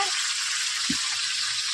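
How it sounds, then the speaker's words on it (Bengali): Cauliflower florets frying in oil for khichuri give a steady, close sizzle that runs without pause, with one soft thud partway through. "এখন হচ্ছে যে খিচুড়িতে দেবো, তাই আমি ফুলকপি ভাজছি"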